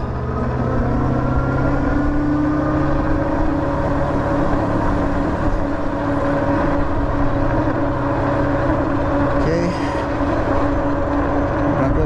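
A HiKNIGHT H6 Pro dual-motor e-bike cruises on its rear-wheel motor alone, giving a steady, even electric whine with faint tonal lines over continuous road and wind rumble, with no speech.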